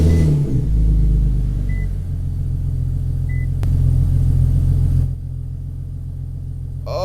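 An Infiniti Q50 engine runs in a garage with a steady low rumble that dominates the whole stretch, dropping slightly in level near the end.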